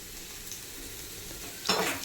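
Onions sautéing in a pan for goat brain fry: a soft, steady sizzle close by, with a brief scraping stir near the end, no speech.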